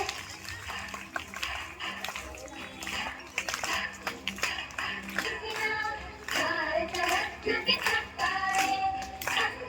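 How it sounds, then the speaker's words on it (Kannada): Students clap together at a Kannada Rajyotsava celebration in Kamalapur town. The clapping is loose and uneven, a mass of sharp hand claps that rises toward the end, with crowd noise and murmuring voices underneath. "ಎಲ್ಲ ವಿದ್ಯಾರ್ಥಿಗಳು ಜೋರಾಗಿ ಚಪ್ಪಾಳೆ ತರಬೇಕು"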